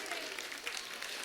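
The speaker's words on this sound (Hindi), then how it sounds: "ये सम्मान स्वाति मोदी तिवारी जी का, एक बार तालियों के साथ अभिनंदन, अभिवादन।" An audience at a stage ceremony honouring an artist applauds with steady, dense clapping that continues evenly throughout.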